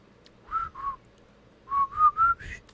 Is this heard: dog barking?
no